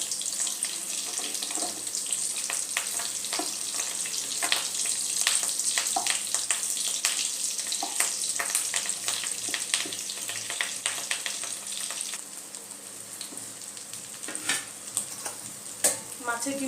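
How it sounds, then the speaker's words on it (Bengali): Fish roe fritters fry in a pan, a steady close sizzle with frequent clicking scrapes and sharp stirring taps throughout, with no speech. "মাছের ডিমের বড়াগুলো দেখুন আমার ভাজা হয়ে গেছে"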